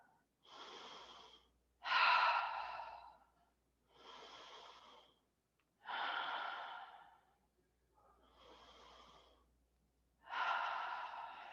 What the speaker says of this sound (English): let's take 3 cleansing breaths, breathing in through the nose and out through an open mouth